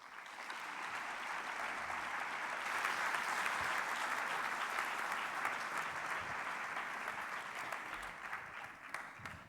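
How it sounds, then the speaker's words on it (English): A lecture hall audience at a design school masters' talk gives a warm welcoming applause, a sustained, even wash of many hands clapping that swells slightly in the middle and carries on without any talking. "I invite you to give a very warm applause to Kaave Pour."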